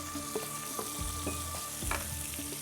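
Onion and tomato frying with garlic in a pan, a steady sizzle with stirring scrapes and soft clinks, fairly close and without talk.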